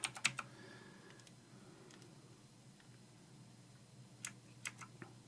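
Quiet keystrokes on a computer keyboard as a password is entered, a quick burst of clicks at the start and another short burst near the end, with near-silence in between.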